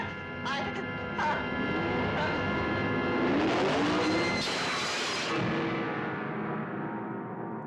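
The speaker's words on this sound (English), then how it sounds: "I think I hear the engine of that car." A car engine roars steadily and loud in a 1970s vehicular horror film trailer, the tone rising and swelling midway before easing off, with dramatic music layered over it.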